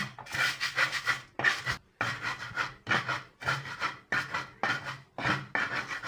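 Chili peppers are ground on a stone grinding slab with a rhythmic series of rough, rasping strokes, each a short scrape separated by brief pauses, close and clear with no talking.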